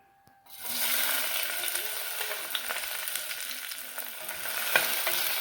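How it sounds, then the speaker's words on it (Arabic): Sliced onion dropped into hot oil in a pan bursts into a sustained, close sizzle that continues evenly, with a few small pops and crackles. "غنشقرها غير في الزيت هكا. نخليها تشقر شويه"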